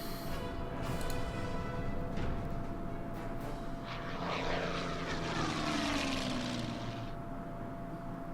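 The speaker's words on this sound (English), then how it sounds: "Enemy bomber attacks my Marder." Enemy propeller bomber attacking in the WWII strategy game Order of Battle, a droning engine that swells and sweeps past with a falling pitch, loud against a steady game background hum.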